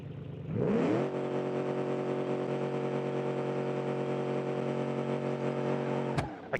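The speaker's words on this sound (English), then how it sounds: "Let's start the engine." A car engine that has just been pulled out of water cranks and catches, then settles into a steady, loud idle hum before cutting off near the end.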